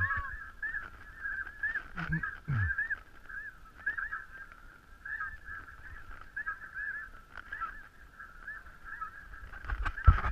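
Geese honk steadily at a distance, a continuous chorus of calls, with a few faint thumps and a brief low rumble partway through.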